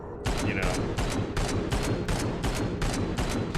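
Turret gunfire rattles through a corridor in Space Hulk: Deathwing, a loud, steady string of evenly spaced shots, roughly three per second, with a constant dense din beneath them.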